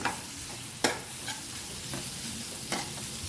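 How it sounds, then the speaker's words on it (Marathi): Potatoes and peas are stirred into a spiced masala in a pan, with a low steady sizzle and a few sharp spatula knocks and scrapes against the pan, one especially loud near the start; no voices. "आता याच्यामध्ये बटाटा घालूया आणि वाटाणे घालूया. हे चांगले ढवळून घेऊया."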